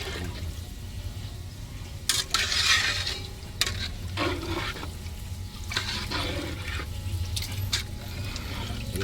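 A pot of lugaw rice porridge is stirred, giving intermittent scraping and sloshing strokes over a soft background hum, with a few louder bursts partway through.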